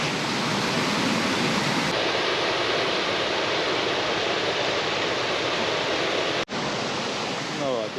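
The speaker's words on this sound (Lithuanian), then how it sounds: "Krioklys pasirodė labai siauras tapęs ir gerokai padžiūvęs, nes seniai nebuvo lietaus" A small, narrow waterfall, thinned by dry weather, gives a steady broad rushing splash, loud and constant, with a brief break near the end.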